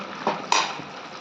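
A metal pot lid clanks twice as it is set back onto a pan of simmering chicken cooked with poppy seeds, over a soft steady background sizzle.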